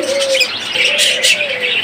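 A pair of sky-blue budgerigars, over a year old, chirp and twitter in quick bright bursts close by, over a steady low tone that repeats in phrases.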